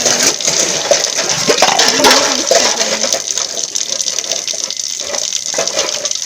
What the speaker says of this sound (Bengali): সব বাসন ধোবো আজকে